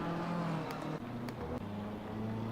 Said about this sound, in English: You can hear his car accelerating